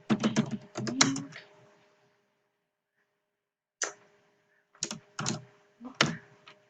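Clattering keystrokes on a computer keyboard, a quick cluster of taps followed by a silent pause and then several more scattered presses, close and fairly quiet.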